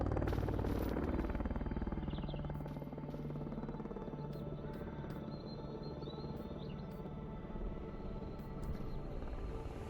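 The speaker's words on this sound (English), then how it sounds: "Helicopter? Helicopter!" A helicopter flies overhead in the STALKER Anomaly video game, its rotor a steady, fairly faint thrumming drone that fades slightly, with occasional bird chirps in the background.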